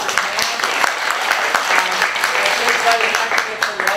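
A keynote audience breaks into sustained applause as a volunteer comes up on stage, dense, steady clapping filling the room at even loudness for about four seconds, with scattered sharp individual claps standing out.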